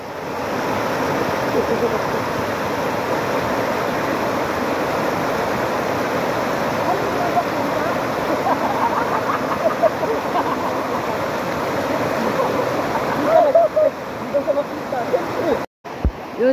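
Bunsuran Falls near a river in Tanay pours down in a steady, loud roar of rushing water, close and continuous, with faint voices briefly audible near the end.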